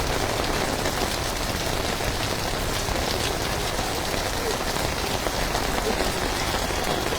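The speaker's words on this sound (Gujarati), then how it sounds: "સમગ્ર વડોદરામાં હાલ ધોધમાર વરસાદ વરસી રહ્યો છે" Heavy monsoon rain pours down in Vadodara, a dense, unbroken roar of drops hitting surfaces that stays uniformly loud from start to finish.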